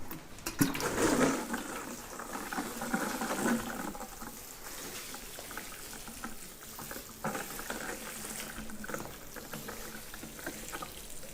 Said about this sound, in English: we'll give them a good top watering